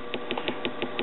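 A 1946 Belmont 78 rpm record player with a notched idler wheel makes a steady mechanical hum broken by a regular, evenly spaced bump, several times a second, faint and close.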